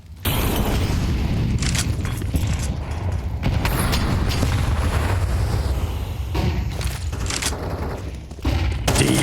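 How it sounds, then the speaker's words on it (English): Grenade explosions and gunfire in a professional Counter-Strike match on the Inferno map, a loud dense wash of blasts and rattling shots that runs continuously, with commentary speech faintly mixed in. "Deep nade damage coming in here, a lot onto the Imperial side"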